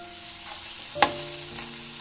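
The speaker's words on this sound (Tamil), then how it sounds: "இப்போ அந்த ஆனியனை நல்லா கிளறி விட்டு நல்லா ஃப்ரை ஆகணும்." Onions fry in a pan with a soft, low sizzle, broken by one sharp scrape of a spoon stirring them, then a fainter clink.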